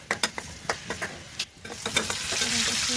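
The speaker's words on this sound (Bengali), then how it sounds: "ডালের মধ্যে দিয়ে দেবো এখন বাগার পেঁয়াজ রসুন দিয়ে।" An onion and garlic tempering sizzles as it is poured into cooked dal, with stirring scrapes and clinks at first and then a rising, steady close frying hiss.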